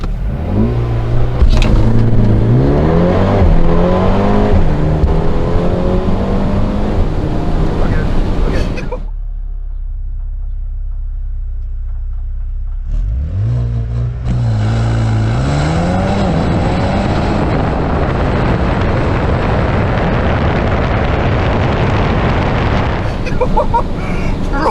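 A family SUV does a 0 to 60 launch-control run with a loud rising engine roar through several upshifts, then a brief near-silent pause before the engine note swells again, with people talking over it.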